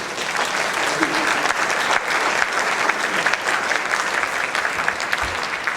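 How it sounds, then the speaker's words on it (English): Steady, full applause from an audience after a lecture on quantum computing and information processing, a dense wash of clapping in a hall with faint scattered voices beneath. "Let's have applause for our speaker."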